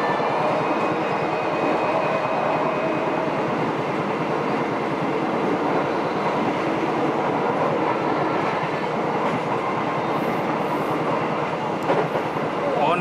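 Airport rail link train running between Yogyakarta International Airport and the city at high speed, a steady loud rumble of wheels on rails with faint clickety-clack throughout, heard from inside the carriage.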